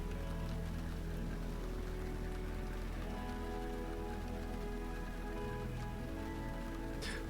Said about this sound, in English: this time I can see the rain